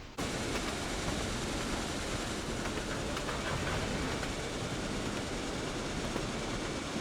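Commuter train rounding a curve into a tunnel, a dense, steady roar of rolling wheels and rushing air with faint rhythmic clatter, loud and unbroken throughout.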